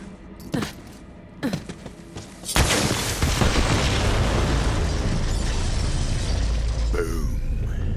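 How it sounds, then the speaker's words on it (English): Bombs detonate in the Borderlands 3 Bounty of Blood forest, a few sharp bursts followed by one massive booming explosion with a long, rumbling roar and echo that rolls on for seconds. "The explosion echoed through the forest"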